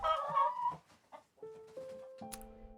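Video game hen clucking, a few short clucks at the start followed by tonal game chimes, with no talking.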